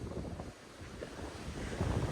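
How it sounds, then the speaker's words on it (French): Wind buffets the microphone in a steady low rumble during rain, swelling and gusting, with a wash like nearby surf underneath. "Il pleut, il y a du vent, rien qui va."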